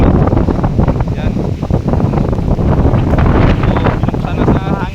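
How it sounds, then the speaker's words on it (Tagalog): Strong wind buffets the microphone in constant loud gusts, with a voice speaking underneath. "Grabing hangin talaga mga kano."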